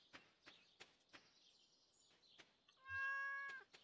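In the farming video game Stardew Valley, a single clear cat meow rises near the end over faint rhythmic tapping footsteps and quiet game ambience.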